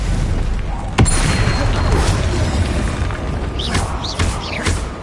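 A Confringo fire spell blast in Hogwarts Legacy lands as a sudden booming thud, set inside a dense, noisy combat rumble, with a few more short impacts and swishes following near the end.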